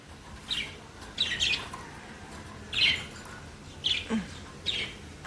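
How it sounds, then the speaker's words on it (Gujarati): A pet parrot set outdoors in cool weather lets out five short, bright chirps and squawks, spaced irregularly over a few seconds, close and clear with no talking. "મિટ્ટુને બહાર મૂકી દીધો, ઠંડા વાતાવરણમાં પક્ષીઓને બહુ મજા આવે।"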